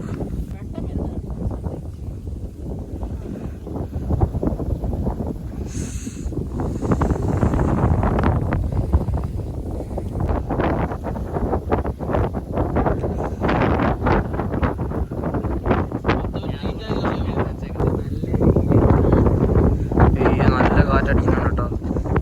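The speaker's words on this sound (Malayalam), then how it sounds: "നല്ല കാറ്റുണ്ട്" Strong wind buffets the microphone at a hilltop viewpoint at sunrise, a continuous loud rushing roar with gusts swelling and easing throughout, while people talk over it.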